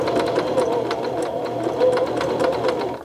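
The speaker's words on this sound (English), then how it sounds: "you see it going back and forth, closing off that buttonhole, closing off that square" A sewing machine runs a steady rapid stitch, needle going back and forth to close off the end of a buttonhole, loud and close with an even mechanical whir and no talk, stopping abruptly at the end.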